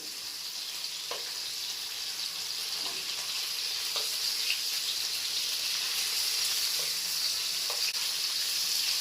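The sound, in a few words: dried shrimp and fish frying in oil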